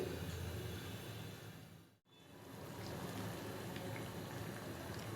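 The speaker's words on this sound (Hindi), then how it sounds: "पानी बॉईल हो गया है। अब मैं इसमें 1 कप पास्ता शामिल कर रही हूँ।" A pot of boiling water with pasta in it bubbles and hisses steadily, close up, with a brief abrupt cut to near silence partway through before the boiling noise resumes.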